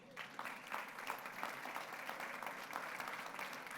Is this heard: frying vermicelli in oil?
no